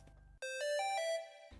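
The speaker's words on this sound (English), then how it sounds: "we got this like little pixel fill at the end of the bar that ends up sounding like this" A short pixel-style synth fill closes a bar in a hype drop track: bright, bell-like tones step upward in quick succession, loud and alone, with the bass dropping out beneath them before the beat returns.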